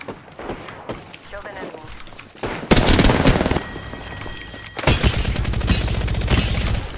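Automatic weapon fire in Apex Legends roars in long sustained bursts, loud and dense, with a quieter stretch of game sounds before it and players talking over parts of it.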